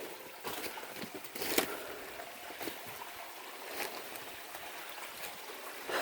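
Small waterfall of water dripping and trickling outdoors, a faint steady splashing with scattered louder drips, close by and without talk.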